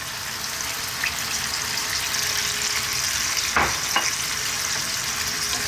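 Pork adobo with soy sauce, oyster sauce and onion sizzles and crackles steadily in a pan as a little water goes in, a close, constant frying hiss with a brief splashy burst near the end.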